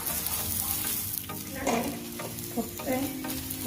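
Aloo paratha frying in oil on a hot pan, with a steady close sizzle and a few soft scraping touches from turning or pressing the flatbread.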